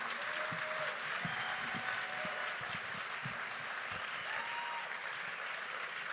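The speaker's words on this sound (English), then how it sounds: "Yeah, round of applause" Steady applause from an audience at an evening event, dense clapping that fills the space continuously for several seconds, with no individual voices standing out.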